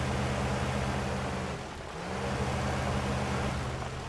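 An offroad vehicle engine drives through rough terrain in Spintires, a steady close motor drone with a brief dip in the middle before it picks back up, heard alone.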